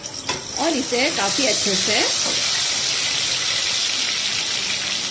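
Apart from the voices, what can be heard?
spice paste frying in hot oil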